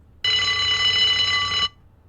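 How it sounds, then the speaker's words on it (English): A hospital alarm in the video game Unheard, a steady electronic ringing tone that starts abruptly, holds for about a second and a half, then cuts off into quiet. "Is that the alarm?"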